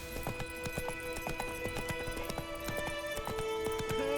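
Galloping horse in The Witcher 3 video game, a steady rapid clip-clop of hooves running continuously and close, with game music and ambience underneath and a brief whinny.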